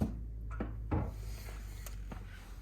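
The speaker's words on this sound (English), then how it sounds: "once you can see that your fire started to go, then you can close the door" The door of a wood-burning stove is swung shut, giving a couple of muted knocks and a firmer close near the middle, then a quiet room with a low hum.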